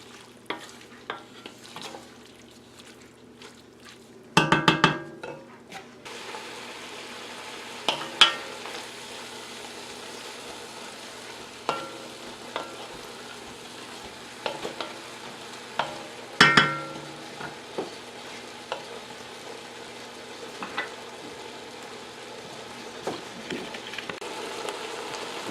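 Cubed pork sizzles and fries in a hot pan while being stirred, with a steady low sizzle and intermittent scraping and clacking stirs throughout.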